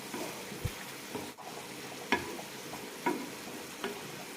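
Jackfruit seeds and bitter gourd cook in a pan on a low flame with a soft, continuous sizzle, broken by a few light stirring scrapes and taps up close.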